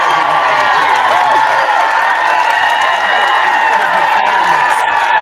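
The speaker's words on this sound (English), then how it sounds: "Man, get that boy his round of applause." A crowd cheering and applauding, dense and loud throughout, with a continuous roar of clapping and voices that cuts off abruptly at the end.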